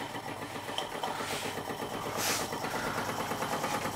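A large scratch-built overtype model steam engine fired by a gas burner runs steadily nearby, a continuous rapid chuffing and mechanical beat with a brief hiss of steam midway.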